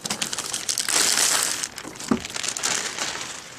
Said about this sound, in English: let's pull it out of the plastic